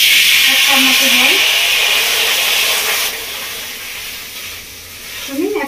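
About a cup of water poured into a very hot kadai hisses and sizzles loudly and steadily, easing off slightly after a few seconds with faint bubbling, heard close and alone.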